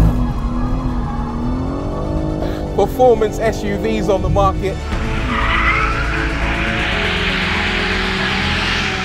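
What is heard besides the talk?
BMW M3 Touring drifting, tires squealing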